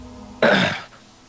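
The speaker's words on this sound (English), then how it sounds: "You hear her clearing her throat and taking a deep breath." A single rough throat clearing by a woman, close and fairly loud, lasting about half a second against a quiet background.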